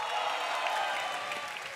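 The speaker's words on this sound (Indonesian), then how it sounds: "Tepuk tangan sekali lagi untuk grand finalis kita, Viko dan juga Babe." Audience applause at a stand-up comedy show in Indonesia, a steady wash of clapping from the crowd, fairly loud and continuous for a short burst.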